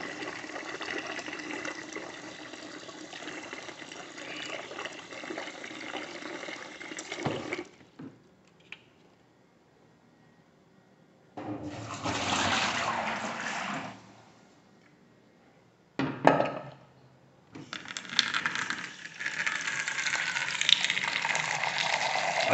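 Water runs from a water purifier after a filter change, pouring and gushing in several bursts separated by silent pauses, fairly near and steady while it flows.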